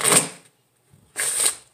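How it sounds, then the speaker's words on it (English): Two quick riffle shuffles of Bee casino-quality playing cards, each a sharp rapid burst of clicking flutter, separated by a short pause, close and clear. "I'm just going to give the cards a shuffle."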